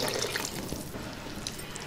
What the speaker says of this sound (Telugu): ఇందులోనే కొద్దిగా నీళ్ళు వేసుకుందాం.